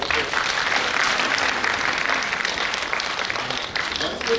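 An audience at a Hindi poetry show claps loudly to welcome the guests, a dense, steady wash of many hands lasting several seconds, with voices faintly mixed in.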